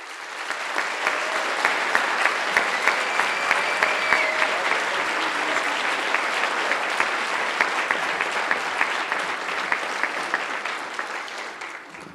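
Sustained audience applause welcoming speaker Anthony Ianni at Community Gatepath's Power of Possibilities event, a steady dense clapping from a large crowd that holds evenly for about twelve seconds.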